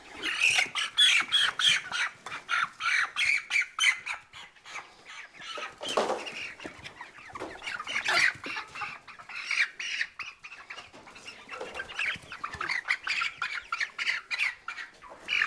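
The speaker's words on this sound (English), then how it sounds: "And there they are, 23 Cornish cross chickens." Twenty-three Cornish cross chickens squawk and cluck continuously at close range, a busy, overlapping flock chorus with occasional louder flaps and rustles.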